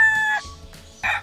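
A rooster crows loudly and close, a harsh rising-and-falling call followed by a couple of short clucking bursts, with no voices alongside.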